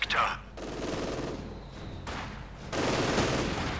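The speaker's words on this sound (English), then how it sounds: "Grenades with a light machine gun." In the game Company of Heroes 2, light machine gun fire comes in rattling bursts separated by short gaps, moderately loud among other battle sounds.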